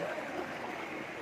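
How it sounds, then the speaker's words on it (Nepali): A swirling whirlpool churns in a river flooded after continuous rain in Itahari's Halgada area, a steady close rushing and gurgling of fast floodwater with no talk. "यसलाई चाहिँ घुमारी भन्छ"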